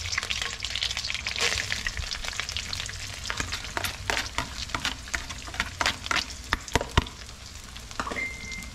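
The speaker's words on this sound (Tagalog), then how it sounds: "Lagay tayong bawang." Garlic sautéing in a wok-style pan for a creamy mushroom chicken dish, a dense crackling sizzle with repeated close stirring scrapes and clicks throughout.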